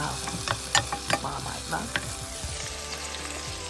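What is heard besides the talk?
onions frying in oil in a pan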